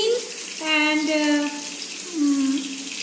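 Chopped greens, cut leaves and stems, are rinsed under a running kitchen tap, giving a steady splashing water flow with bright, shifting tones as the stream hits the leaves and bowl, near and alone.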